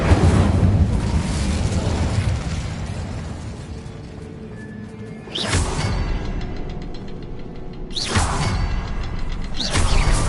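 Incendio fire spell cast in the Hogwarts Legacy video game, heard as loud whooshing bursts with crackling flame over a rumbling ambient game backdrop, with two or three distinct blasts.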